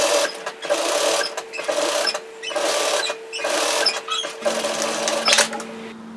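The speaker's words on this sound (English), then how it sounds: "just sewing 2 rows of stitching just to mimic the look of a cover seamer" A sewing machine stitches two rows of topstitching on a cardigan sleeve, running in loud steady whirring bursts with brief pauses between them, close up and without talk.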